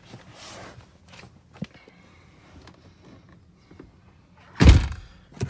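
Someone climbing into a 2016 Ford F-350 crew cab pickup, with soft shuffling and small knocks, then one loud close door slam near the end.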